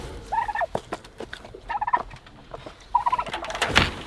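Turkeys gobble in several bursts of warbling calls, close by on a homestead, separated by short pauses with scattered rustling and clucks between them.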